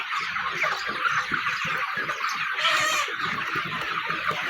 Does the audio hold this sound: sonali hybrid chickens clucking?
yes